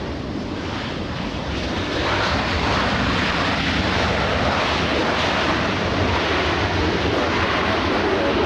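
A big Hawaiian airliner arriving at LAX airport after a flight from Boston makes a steady, loud broadband jet engine roar that swells slightly and holds continuous throughout, with wind rush mixed in and no talk.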